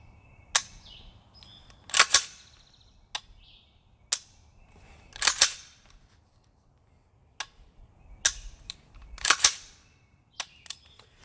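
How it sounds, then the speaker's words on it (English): Dry-fire trigger pulls on an unloaded handgun, a series of sharp, close metallic clicks spaced irregularly, some in quick pairs, with quiet handling noises between them. "We're just gonna practice the trigger pull for a little bit."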